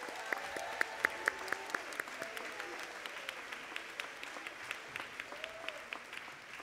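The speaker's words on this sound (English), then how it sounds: "One more round of applause for them." Audience at a high school graduation ceremony applauding, a steady crowd patter with distinct sharp claps, somewhat distant, with faint voices and cheers underneath.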